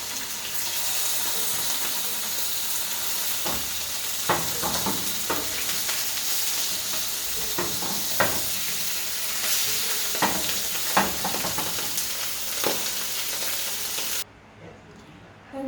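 Sprat fish fry in hot oil in a pot, a steady loud sizzle with occasional sharp crackles and spits, before the sound drops away abruptly at the end.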